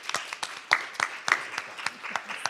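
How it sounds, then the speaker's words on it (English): Sparse, thin applause for assembly candidates at a New Jersey legislative district forum: a small audience claps in scattered, uneven strokes, fairly faint and distant, with no talk over it. "Now it's appropriate to clap for all of the candidates."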